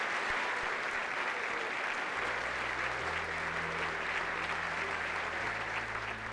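Sustained applause fills a Spartan assembly, a dense, even patter of many clapping hands that stays at a steady level throughout while a low hum sits underneath.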